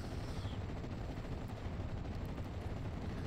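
Sustained rapid automatic gunfire from an M16 anti-aircraft halftrack in the WWII video game Steel Division: Normandy 1944, a dense continuous rattle at steady loudness with no talk over it.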